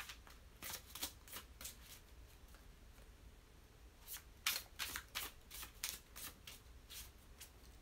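Repeated crisp riffling bursts of a deck of cards being shuffled, two clusters of quick flutters with a brief pause between, close and fairly quiet.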